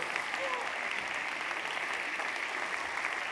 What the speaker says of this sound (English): we'll clap until we get 8 people to stand up